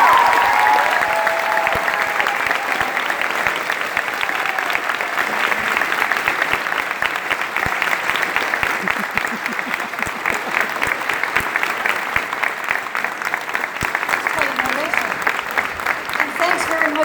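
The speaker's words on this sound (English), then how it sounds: "let's give Jim a round of applause" A large crowd at a Dragon Con 2019 author session applauds steadily, dense clapping sustained at full strength throughout with a few scattered cheers mixed in.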